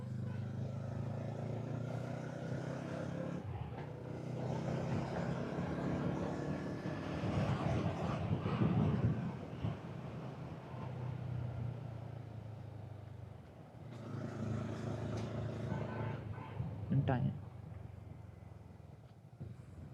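A car cruising in fifth gear along a road with turns and sharp bends gives a steady, continuous engine and road drone with some wind rush, swelling slightly at moments across the whole stretch.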